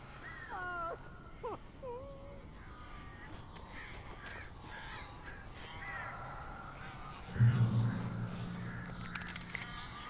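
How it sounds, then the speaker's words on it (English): Crows caw a few times near the start in the video game Alan Wake, set against a low ambient rumble, followed later by a louder thud and rustling disturbance. "These birds are weird."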